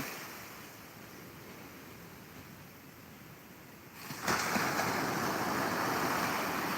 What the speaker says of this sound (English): You hear how the waves sound so intense? It sounds like it's slapping.